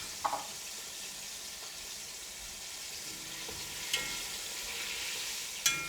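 Karaage chicken frying in oil at 350 degrees gives a steady, even sizzle and hiss throughout, with a couple of faint clinks near the end.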